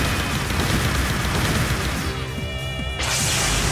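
Dense, continuous gunfire and crashing impacts fill a battle in the game Trails into Reverie, a loud sustained barrage with no pauses that briefly shifts near the end.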